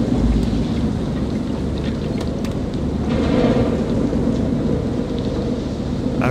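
Heavy rain and rolling thunder at sea in the Man of Medan game, a dense loud roar of downpour with deep rumbling swells underneath and occasional sharper cracks.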